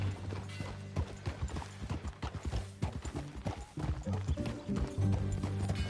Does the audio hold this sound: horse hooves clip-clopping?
yes